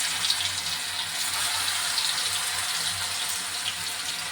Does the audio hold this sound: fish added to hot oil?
yes